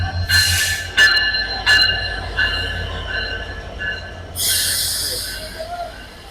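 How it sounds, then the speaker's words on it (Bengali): A passenger train hauled by locomotive 605 pulls into a station in northern Bangladesh. Loud metallic wheel squeals and screeches burst out over a rumbling rolling drone, with faint crowd sounds behind. "আমাদের ট্রেনটি চলে এসেছে, লোকোমোটিভ"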